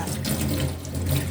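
Tap water runs steadily into a sink while leaves are washed under it, a continuous close splashing stream with no talk.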